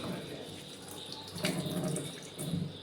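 Tap water runs steadily over coriander leaves being washed at a sink, a close, continuous splashing rush that swells briefly a couple of times.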